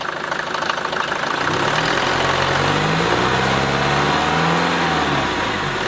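A Mercedes-Benz W124 diesel engine runs close and loud, a steady rough clatter at idle that rises and wavers as the throttle is blipped, with no voices over it.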